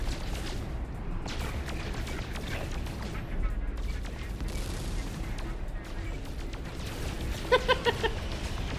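Spaceship guns blast in No Man's Sky, a dense, continuous barrage of rapid shots and booms with a few sharper, louder bursts near the end.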